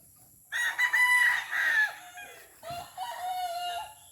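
At a small backyard chicken farm, a rooster crows loudly and close, followed by a second, lower crow and softer clucking from nearby chickens.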